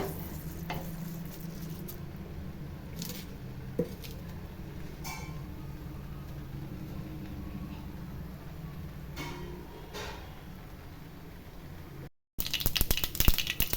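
Mustard seeds sizzle and crackle in hot coconut oil while tempering for aviyal, a steady close frying hiss with a few sharp pops and light clinks, ending in a brief gap and a louder burst of spattering.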